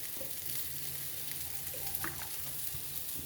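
Coconut oil heats in a pan with a faint, steady sizzle and hiss, broken by a few soft pops and light clicks.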